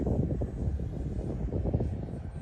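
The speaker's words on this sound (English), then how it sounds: "I'm going to show you guys another landing real quick." An RC Batwing model airplane coming in to land, its motor a steady, droning buzz that stays fairly loud and even throughout, with no one talking.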